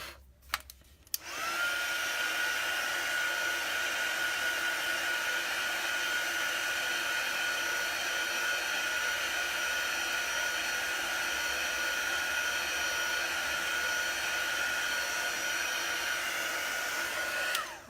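A hair dryer blows steadily on chalk paste over a winter woodland scene, starting after a brief click and running at a constant whirring hum throughout.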